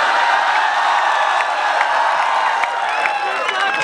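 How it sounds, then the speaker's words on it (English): University audience at a comedy show clapping and cheering, a dense, steady wash of applause with scattered whoops throughout. "Even the faculty is clapping at that"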